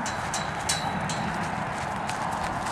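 Hooves of a full-grown miniature horse patter on the ground at an old petting zoo on a historical farm, a steady soft clip-clop under a broad hiss of outdoor noise.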